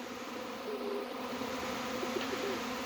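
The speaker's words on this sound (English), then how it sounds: "These bees are moving in." A honey bee swarm moving into hives, a steady faint buzzing drone from many bees carrying on throughout, with no voices.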